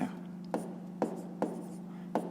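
Numbers being written by hand during a fifth-grade math exercise, several short scratchy pen strokes at a steady pace, close and quiet, with a faint hum underneath.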